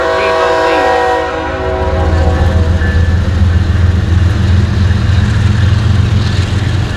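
CSX freight train led by a GEVO locomotive passing close in Florence, South Carolina, a loud, continuous rumble of diesel engines and rolling wagons with a horn note at the start.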